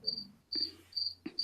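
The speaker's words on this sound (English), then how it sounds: "The cricket is hiding in this room and I can't find him." A cricket hidden indoors in a room chirps in short, shrill bursts repeated several times, fairly close and clear over a low hum.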